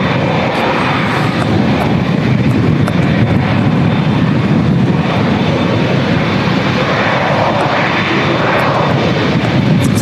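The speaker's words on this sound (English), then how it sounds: "Swiss flight 400 Zurich to Dublin is diverted to Manchester, and it's a Swiss E220." A Swiss E220 jet airliner lands at Manchester Airport in strong storm crosswinds, its engines a loud, continuous broadband roar that holds steady throughout with no voices.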